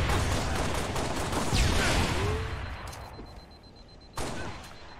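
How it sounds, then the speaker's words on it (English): A burst plasma rifle fires in Halo, rapid energy shots in a dense stream that fades off, then a fresh sharp burst near the end; close and loud. "this is like the burst plasma rifle from Halo Infinite"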